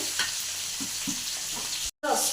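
Okra (lady's finger) frying in a pan while being stirred, a steady sizzle with soft scraping strokes of the spoon, broken by a brief silent gap near the end.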